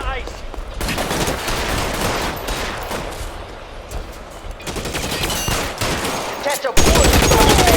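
Sustained gunfire in L.A. Noire, with loud, continuous rapid volleys over nearly eight seconds, a brief drop-out near the end, then a sharp renewed burst.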